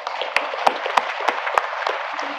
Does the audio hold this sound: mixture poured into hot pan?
no